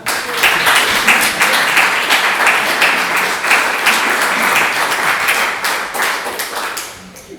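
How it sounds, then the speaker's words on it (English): An audience at a coding bootcamp demo day in Milan applauds loudly and steadily, a dense wash of many hands clapping close by that carries on for several seconds before thinning slightly at the end. "A big applause, please."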